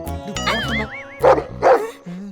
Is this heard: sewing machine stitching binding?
no